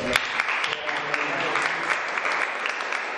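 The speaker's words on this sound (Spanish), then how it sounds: "Un aplauso, por favor" Audience applause at a film club screening during a festival, a dense sustained burst of many hands clapping close by, steady throughout with sharp individual claps standing out.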